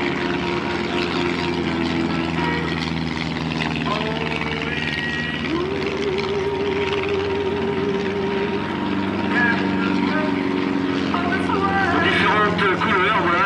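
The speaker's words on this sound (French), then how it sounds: "est en train de faire de la voltige. C'est l'appareil qu'ils ont construit eux-mêmes" A homebuilt propeller airplane flies aerobatics at a 1998 airshow in Nancy-Ochey, its steady engine drone sweeping in pitch as it passes, loud and continuous with talk and crowd noise over it.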